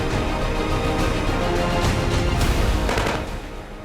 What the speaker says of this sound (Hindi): रूसी स्नाइपर्स ने एडवांस राइफल के दम पर अपने पराक्रम का परिचय दिया